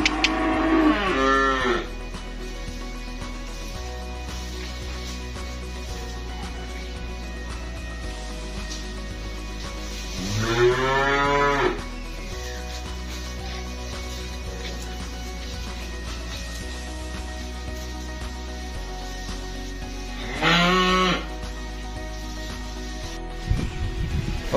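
Cattle at a calf market in Kediri, East Java, including Simmental and Limousin calves, give three loud, drawn-out moos spaced about ten seconds apart, with low background noise between calls and no talking.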